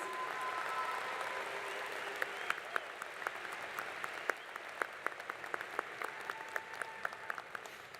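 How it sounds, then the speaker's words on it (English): A large crowd at a university commencement ceremony applauds graduating seniors, a soft distant wash of clapping dotted with sharper individual claps close by. "A round of applause for these two outstanding seniors."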